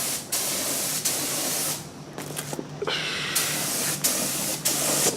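Steady hissing spray of 30-year-old epoxy paint onto a piece of firefighting apparatus, loud and close, running in long continuous bursts with brief pauses and small breaks in the flow.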